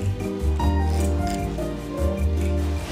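Grooming scissors trim a Yorkshire terrier's coat, with quick rhythmic snips and soft rubbing of blades through hair, close and fairly clear, over a low steady hum.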